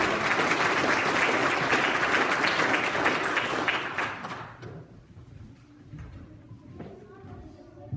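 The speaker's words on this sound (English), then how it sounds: "Please give her a round of applause" An audience at a church mission event applauds loudly and steadily for about four seconds, then the clapping fades away, leaving quiet room noise and a few faint knocks.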